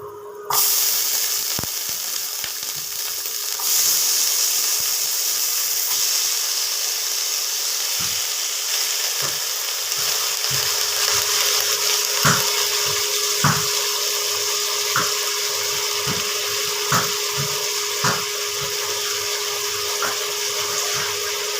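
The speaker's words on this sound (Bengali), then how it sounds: "এবার এগুলোকে ভাজবো।" Chopped pumpkin, potato and onion greens fry in a pan for Bengali aloo bhaja, giving a loud, continuous close sizzle and hiss with scattered small pops and taps.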